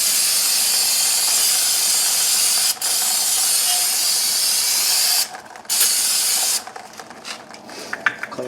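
Brake cleaner sprayed onto the front brake parts of a 2016 Nissan Rogue, a loud close continuous hiss broken by a few short pauses, then sputtering bursts as the can runs dry.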